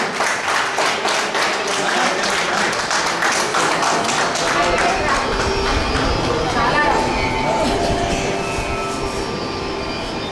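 Audience applause at a stage ceremony, steady, dense clapping from many hands that continues loud and unbroken throughout, with a faint voice underneath.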